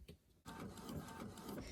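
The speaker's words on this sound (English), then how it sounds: "Alright, it's gonna print and I'll show you how it turned out." An inkjet-style printer runs a sheet of vinyl sticker paper, a steady mechanical whir and rattle that starts abruptly after a brief quiet moment and continues close and fairly loud.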